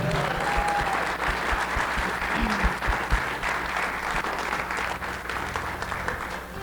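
A crowd at a sports Hall of Fame induction gives baseball honoree Darren Espinoza steady, dense applause that continues evenly throughout.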